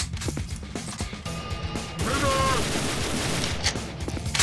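Gunfire in the video game Banzai Escape: dense, rapid shots crackle over a noisy, busy game scene, with crashing impacts and a brief whining tone midway.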